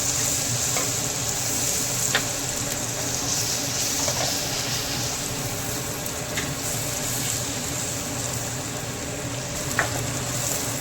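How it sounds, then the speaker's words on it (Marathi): Green chili paste sizzles steadily in hot oil in a pan, a dense continuous frying hiss with faint stirring clicks, close and even throughout with no talk. "त्यामध्ये हिरव्या मिरचीचा पेस्ट घातलेला आहे पण तेलामध्ये होऊ द्यायचं"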